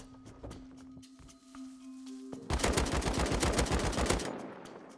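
Rapid bursts of automatic gunfire crack out in a survival video game, a dense loud volley lasting about two seconds after a quieter stretch with a steady electronic tone.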